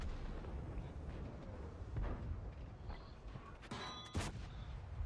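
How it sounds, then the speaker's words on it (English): Tank cannon shots ring out in the World of Tanks video game from a T-54 Lightweight: several heavy booming blasts spaced a second or two apart over a low rumbling game background. "I'm just trying to put in shots on them as they try to enter our cap area."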